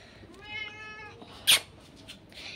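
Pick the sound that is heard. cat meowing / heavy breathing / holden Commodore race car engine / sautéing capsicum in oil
cat meowing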